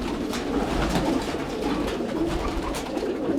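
Pigeons in a breeding loft in Meknes coo steadily and close by, their soft overlapping calls forming a continuous murmur with no talk.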